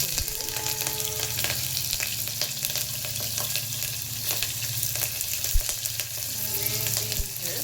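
Chopped green chillies frying for methi pulao, a steady close sizzle of hot oil with occasional stirring clicks and a low background hum.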